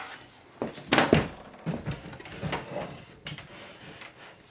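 Power Mac G4 computer case turned over on a surface, giving several close, dull thunks and scraping rubs in a short uneven burst, then lighter handling knocks.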